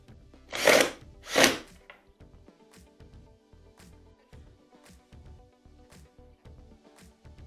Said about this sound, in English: And I'll put the screws in.